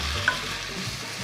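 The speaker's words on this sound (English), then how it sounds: "Give it a stir." Diced potatoes sizzle steadily as they fry in a pan and get stirred, with a brief scrape of the utensil against the pan near the start.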